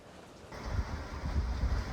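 A sailboat moving through water in about 13 knots of breeze near Airlie Beach, with soft rushing water and wind noise that swells after a quiet start.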